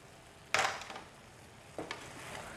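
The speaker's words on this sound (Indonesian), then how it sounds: "Aduk rata." Sweet and sour pineapple chicken being stirred in a pan, with two short bursts of scraping and sizzling from the utensil moving through the sauce, separated by a quieter pause, and no talking.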